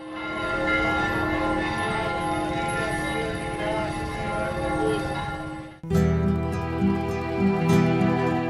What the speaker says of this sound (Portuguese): E na festividade o sino também repica de uma forma muito bonita.